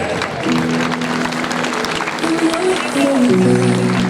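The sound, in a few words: crowd applause for the Naunine contrada at the palio parade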